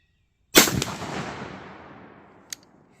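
Single loud blast from a Troy 12 gauge shotgun firing a slug outdoors at a 50-yard range, a sharp close report with a long rolling decay and a faint click afterward.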